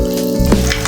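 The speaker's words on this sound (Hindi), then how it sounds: "इसको अब मैं 3 मिनट के लिए इन तीनों चीज़ों को मैं फ्राई कर लेती हूँ" Green chillies and garlic cloves frying together in a pan over very low heat, giving a brief, steady, close sizzle.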